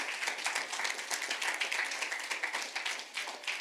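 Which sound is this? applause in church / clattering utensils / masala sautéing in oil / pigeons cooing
applause in church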